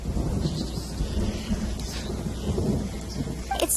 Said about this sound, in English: Lightning striking.